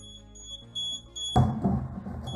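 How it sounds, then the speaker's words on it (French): An Elegoo Mercury X resin curing station gives a safety beep with its lid off: a thin, high, steady electronic tone repeating faintly, followed by a louder clattering thud partway through. "il bip tout simplement parce qu'il n'y a pas le capot"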